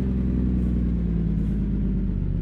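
A Cummins ISX engine in a Kenworth W900 truck from American Truck Simulator rumbles steadily in a deep, continuous low drone, loud and close, with no other sounds.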